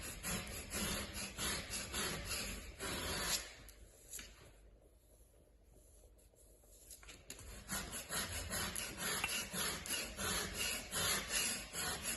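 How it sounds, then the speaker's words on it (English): A rigid flattening block rubs over fresh plaster during a wall repair, making a rhythmic, close-up scraping and rasping that pauses briefly in the middle before the strokes resume steadily. "just using like the rigid flattening block"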